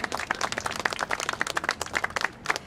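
An audience at a Portuguese Immigrant Week event applauds with quick, overlapping claps at moderate volume, a small crowd clapping close by without speech.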